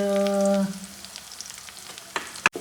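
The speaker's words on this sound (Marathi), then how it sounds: "ह्यात थोडं तमालपत्र घालून दोन मिनिट परतायचं" Bay leaf sizzles in oil in a pan, a soft frying crackle with a few sharper clinks, following a brief steady tone at the start.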